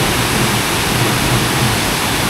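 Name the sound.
waterfall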